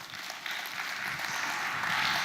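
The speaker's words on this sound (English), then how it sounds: "Give him a big round of applause, please." An audience applauding after a presentation, a continuous dense wash of clapping from many hands that holds steady and swells slightly toward the end.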